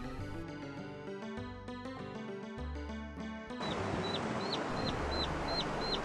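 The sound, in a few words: chicks cheeping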